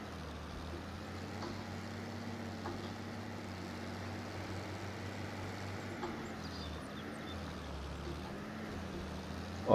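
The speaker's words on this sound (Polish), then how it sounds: "Mocny ten ciągnik." A powerful tractor engine in Farming Simulator 22 drones steadily and loud throughout, a continuous low rumble with a slight dip in pitch partway, no talk over it.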